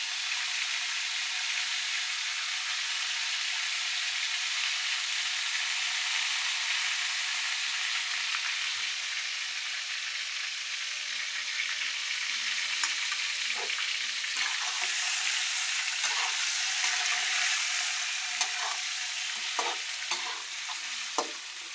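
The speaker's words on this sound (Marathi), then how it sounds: "छान असं फ्राय करायचं बरं का तेलात" Eggplant pieces frying in hot oil in a pan, a steady close sizzle throughout with occasional stirring clinks, no talking.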